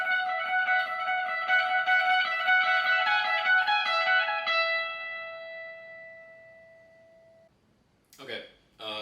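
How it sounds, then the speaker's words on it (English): Guitar solo of rapid 16th notes through delay, overlapping repeats forming a sustained shimmering wash that fades into a long decaying tail, followed by a brief quiet burst near the end. "with the delay, we're going to be hearing overlapping notes"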